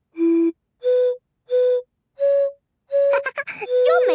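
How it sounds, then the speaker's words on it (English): Breathy, hollow whistle-like tones from blowing across the tops of water-filled bottles in a cartoon, four separate notes at rising pitches, each about half a second, then a voice speaking over a final note. "You can also blow across the bottle tops to get a sound."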